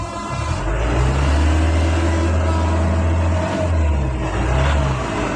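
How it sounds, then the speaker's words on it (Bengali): A 2007-model five-door car engine idling just after starting, a steady, loud low rumble held close to the microphone with slight rises in revs. "সম্মানিত দর্শক, একটু ইঞ্জিনের সাউন্ডটা শোনেন।"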